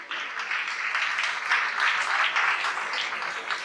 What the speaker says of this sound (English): you can just put another round of applause for the love of tennis,